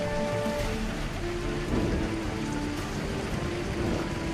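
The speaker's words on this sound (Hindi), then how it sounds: "जोर की बारिश होने लगती है" Heavy rain pours down in a dense, continuous hiss and patter that stays loud and even throughout, with no voices.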